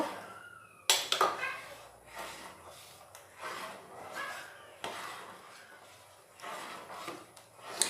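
A spoon stirs spices and ingredients together in a cooking pot, with close scraping and clanking against metal in irregular bursts, sharp knocks among softer rubbing strokes.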